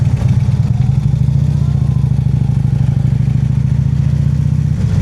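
A Harley motorcycle rolls at low speed on a cold day, its engine a steady deep low rumble with a fast, even pulse, loud and close throughout, with no voices.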